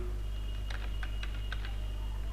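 Close, crisp taps of a computer keyboard while typing Java code, a short irregular run of about eight keystrokes over a steady low electrical hum.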